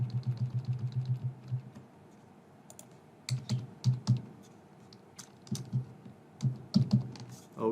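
Rapid keystrokes on a computer keyboard as test card details are entered, first a quick even run, then a pause, then bursts of clicks and taps up close.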